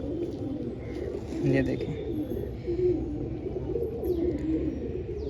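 Pigeons kept for breeding coo softly and steadily in low murmuring phrases, close by, while someone talks over them.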